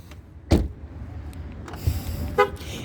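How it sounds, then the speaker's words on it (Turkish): A single short horn chirp from a 2014 Ford Fiesta Trend on locking, near and loud, followed by a faint mechanical click and a second brief blip. "kornalı uyarı tek korna yani kapınızın hepsi kapandı gidebilirsiniz"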